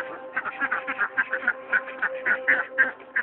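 Pet village ducks quack in a rapid, irregular series of loud nasal calls, close by and alone over a faint steady hum.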